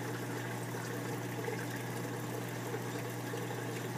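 A Coral Reef 4 pump in a 60-gallon reef aquarium sump keeps the water moving, with water spilling over into a chamber. The hum and trickle are faint and steady throughout, with no voices.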